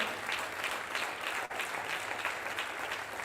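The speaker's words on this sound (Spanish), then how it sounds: "denle fuerte ese aplauso al Señor" A church congregation applauds during a Reformation celebration service, a dense, continuous clapping from a large crowd heard at moderate distance, steady for the whole stretch with no voices over it.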